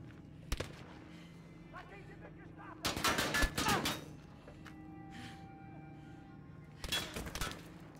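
Gunfire in the World War II shooter Battlefield 5, with a single shot followed by a burst of rapid automatic fire, then a quieter stretch and another short volley, all at moderate distance against low background rumble.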